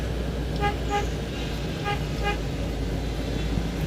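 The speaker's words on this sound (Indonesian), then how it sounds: "Klakson" A car horn toots twice in quick pairs, then twice again, over constant rumbling road and engine noise.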